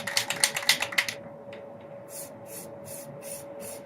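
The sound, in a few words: spray painting dark green onto an AR-15 rifle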